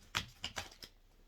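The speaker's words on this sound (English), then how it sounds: "I have shuffled this deck several times, but I'd like to do it a few more times with you all." A large tarot deck being shuffled: four quick papery slaps and riffles in close succession, crisp and near, then quiet.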